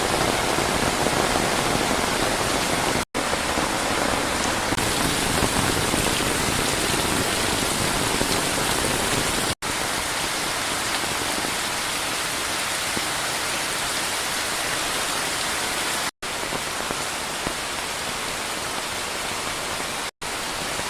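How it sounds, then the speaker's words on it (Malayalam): Heavy monsoon rain falling into a well: a dense, steady hiss of countless drops pouring down without pause, close and loud, with no talking. "കിണറിൻ്റെ അകത്തേക്ക് ഓരോ മഴത്തുള്ളി വീഴുമ്പോഴുള്ള ശബ്ദമില്ലേ"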